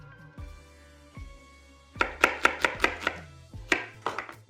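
A knife chops red onion on a cutting board: a few slow single strokes, then a quick rhythmic run of close, crisp chops with short pauses between them.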